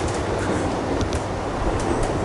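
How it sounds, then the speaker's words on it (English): Continuous low rumble and rattle inside a moving suburban train carriage travelling from Melbourne to Lilydale, steady and close with faint squeaks, no voices. "I'm on the train back from Melbourne"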